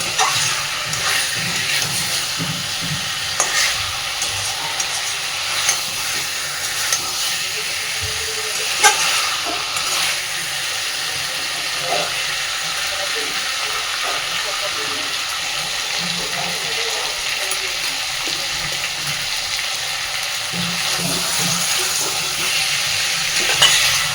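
Small potatoes with beef fat stir-frying in a pan over a medium gas flame, a steady broadband sizzle and hiss running throughout with scattered scrapes and clinks of stirring, close and fairly loud.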